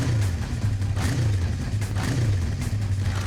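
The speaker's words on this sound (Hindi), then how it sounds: "हम तुम्हें कुछ बाइक्स की आवाजें सुनाएंगे" A motorcycle engine plays back from a recording in a police investigation scene, a loud continuous rumble that rises and falls in repeated revs, close and steady throughout without talk.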